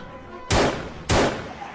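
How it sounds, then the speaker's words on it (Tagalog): A gun fires twice in an audio drama, two loud, sharp blasts about half a second apart, each with a short decaying tail over a faint background bed. "Kinalabit na nga ni Dina ang gatilyo ng baril kahit di pa siya sumisentro sa kalaban"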